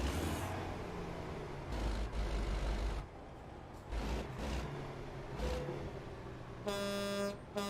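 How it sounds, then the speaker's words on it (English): Truck horn in a truck driving video game, heard from outside the cab with heavy echo and reverb; several loud, sustained blasts, with a final tonal honk ringing out. "Let's see what the regular horn sounds like."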